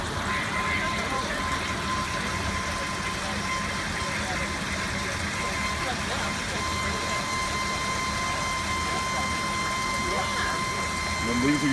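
A Zoeller grinder pump runs with a steady mechanical whir while grinding blue jeans into slurry, and a person talks over the continuous drone.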